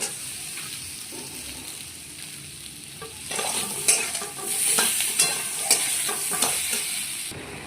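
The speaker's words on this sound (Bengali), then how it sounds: "এবার আমি টমেটোটা দিয়ে দেবো" Tomato fries with okra and potato in a pan, a soft sizzle building into louder, bursting frying with repeated stirring scrapes, close and without talk.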